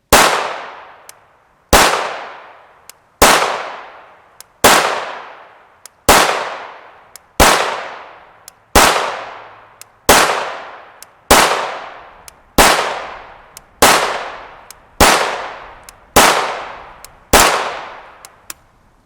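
Fourteen sharp gunshots from a 5.7x28mm pistol firing Hornady Black 40gr VMAX ammunition, loud and close, spaced at an even, unhurried pace with short ringing decays and a brief pause where a round choked.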